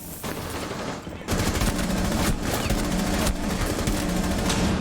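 Gunfire in the video game Rainbow Six Siege, Operation Steel Wave: a dense, steady burst of rapid automatic shots that begins abruptly and runs loud and continuous to the end with no talking.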